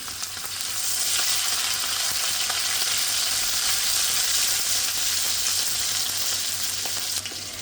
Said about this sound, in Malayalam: ഇഞ്ചി, പച്ചമുളക് 2 മിനിറ്റ് നമുക്കൊന്ന് ഇളക്കി കൊടുക്കാമേ.